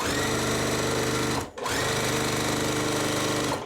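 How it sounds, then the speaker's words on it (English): Sewing machine stitching a background piece onto a quilt block, a loud close continuous whir with one brief stop midway before it starts running again. "The next step for us to do is sew on another background right here. Okay, so I'm going to do that now."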